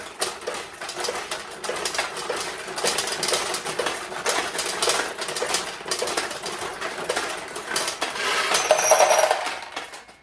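Steel balls rattle and clatter through a Nishijin single-shot conversion pachinko machine, a dense continuous metallic chatter with small pings, growing busier near the end, with no one talking.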